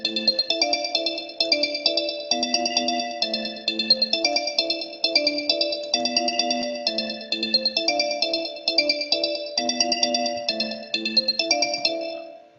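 Early version of a produced beat with an old-fashioned, crunchy character: a repeating pattern of bright, ringtone-like synth tones over mid and low notes, steady and continuous for about twelve seconds with no voices.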